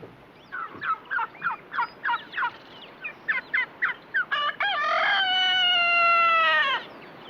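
Domestic fowl kept by a Pehuenche mountain family give a series of rhythmic, repeated gobbling calls, then a longer, sustained wavering call, fairly close and clear over faint background noise.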